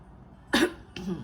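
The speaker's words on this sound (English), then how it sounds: "had a bad cough recently" Two coughs close by: a sharp, forceful one, then a weaker one just after.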